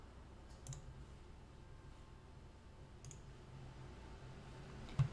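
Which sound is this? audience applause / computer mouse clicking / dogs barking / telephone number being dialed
computer mouse clicking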